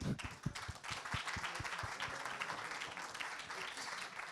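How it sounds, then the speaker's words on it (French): Applause fills an auditorium at a financial-innovation prize ceremony as the audience honours the day's organiser, a fairly quiet and distant wash of clapping with a few sharper claps near the start. "On peut l'applaudir."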